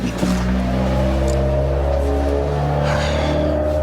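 A car's engine rumbles and revs steadily for a few seconds, a loud sustained drone with shifting tone and no voices.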